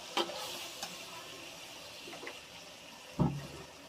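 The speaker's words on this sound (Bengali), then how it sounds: "তেলে একটু ভাজবো, তেলে ভেজে নিলে কাঁচা আদা রসুন বাটার গন্ধটা চলে যাবে।" Ginger-garlic paste being fried in oil, giving a steady close sizzle with a few sharp clatters of stirring, the last one louder.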